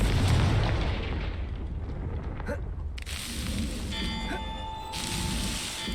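A Confringo fire-spell blast in Hogwarts Legacy, a heavy rumbling boom that rolls out and fades into crackling debris and ambient game noise.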